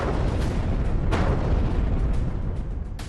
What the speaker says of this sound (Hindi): Could you hear this blast?